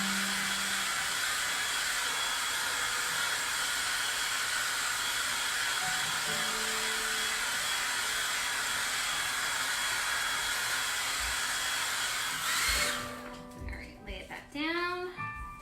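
A hair dryer blows steadily at close range, drying a freshly painted woven plaid tray, its broadband whoosh filling most of the stretch before cutting off, after which a person starts speaking.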